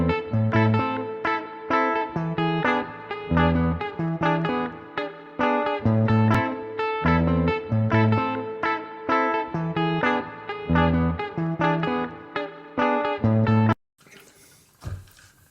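Two guitars lock together in interlocking rhythm parts, one playing the pulse with bombo and tumbao, the other cascada and clave, in a busy, evenly pulsing strummed and plucked pattern that stops abruptly near the end.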